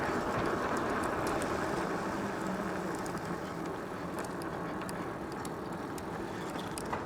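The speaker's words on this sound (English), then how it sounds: "This is just the motor and the battery talking to each other, getting the bike up this hill." Burchda R5 Pro electric bike climbing a hill under motor assist, a steady broadband rushing drone of motor, tires and wind with faint higher clicks, continuous and fairly loud with no talking.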